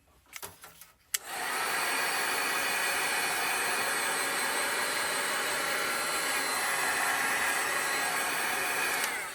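A hair dryer blasting a thin layer of paint during an art session, switching on after a second of small handling clicks and then roaring loud and steady, close and constant, to the end.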